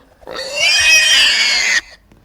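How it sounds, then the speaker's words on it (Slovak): A pig gives a single loud, drawn-out squealing grunt lasting over a second, close and alone, with near silence before and after. "Prasa Pepína"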